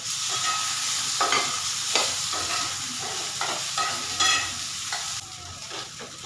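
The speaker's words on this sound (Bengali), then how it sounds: "পেঁয়াজটাকে ভাজা ভাজা করে নেব" Steady sizzling of onions and tomato frying in a pan, with repeated scraping clinks of a spatula stirring through it; no voices.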